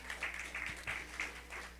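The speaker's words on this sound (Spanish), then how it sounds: "yo no sé si usted quiere darle un aplauso a Jesucristo" Applause from a church congregation fills the sanctuary, a soft, continuous patter of many hands over a low steady hum.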